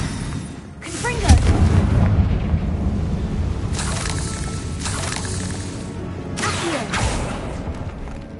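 Confringo explosion spell from Hogwarts Legacy going off in repeated booming bursts, several loud blasts spaced across a steady rumbling game backdrop.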